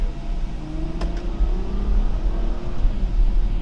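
A Ferrari GTC4 Lusso with a mid-front V12 engine drives along, its engine giving off a steady, loud, deep rumbling drone with a rising tone partway through. There is no talking.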